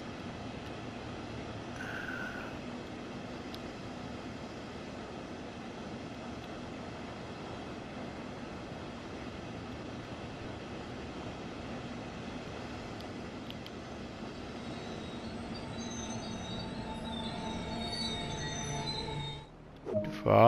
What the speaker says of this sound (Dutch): Ja, deze trein hebben we toch goed onder controle hoor.